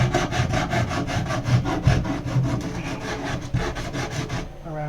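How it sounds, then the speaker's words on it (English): Sandpaper wrapped around a tube rubbed back and forth to remove burrs during boat projects, a steady close rhythmic rasping of even strokes that stops near the end. "and give that a good sand down."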